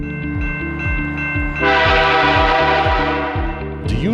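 Freight or passenger train at a railroad crossing, its engine rumbling with a steady rhythmic clatter of wheels as a loud, sustained horn blast sounds close by.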